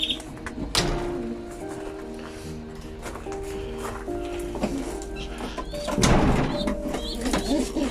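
Soft cooing of pigeons indoors in a breeding loft, with low murmuring calls, occasional wing flaps and rustling, and a few knocks and scrapes nearby.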